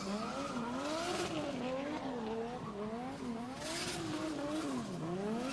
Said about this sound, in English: Kingson with a brand new setup for this outing, supercharged FT86.